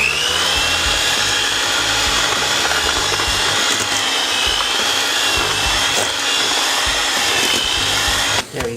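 An electric mixer creams butter with brown and granulated sugar for oatmeal raisin cookies. It makes a loud, continuous whirring buzz with a scraping, rattling texture, steady throughout until it cuts out at the very end.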